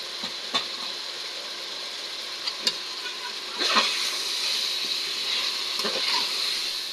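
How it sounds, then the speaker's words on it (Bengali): Washed masoor lentils sizzle in a hot pan with a soft, steady hiss broken by a few sharp clinks of stirring, and the frying swells slightly toward the end. "এখন ধুয়ে রাখা মুসুর ডালগুলো দিয়ে দিচ্ছে ডাল তো দেওয়া হয়ে গিয়েছে তো এখন ভালো করে কষে নিতে হবে"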